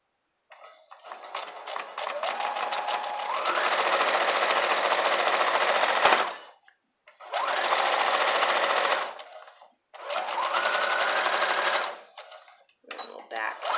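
A sewing machine stitches quilt blocks together along a half-inch seam, whirring in three long continuous runs separated by short pauses, its motor pitch rising as it speeds up.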